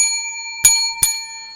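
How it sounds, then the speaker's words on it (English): A bell rung twice to open a timed round on a baseball power-rankings talk show: two sharp, bright strikes about half a second apart over a steady electronic tone, each leaving a short ringing decay. "I'm introducing the bell"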